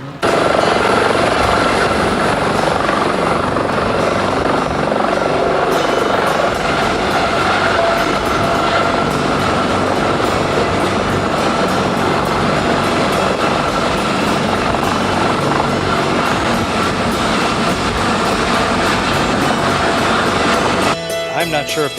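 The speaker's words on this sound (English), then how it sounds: "The Toys for Tots Santa was arriving there by helicopter to bring toys for the kids." A helicopter carrying the Toys for Tots Santa makes a loud, steady rotor and engine roar that fills the whole stretch without a break and cuts off sharply near the end.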